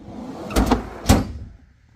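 A metal toolbox drawer holding thread extractors slides and clunks twice in quick succession, two close, sharp knocks with a short rattle, then quiet.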